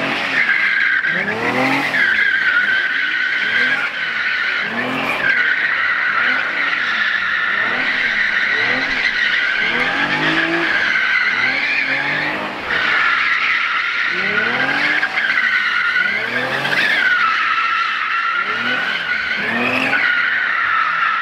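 A car drifting, its tires squealing and skidding in long, repeated sweeps over a steady engine roar, loud and close throughout.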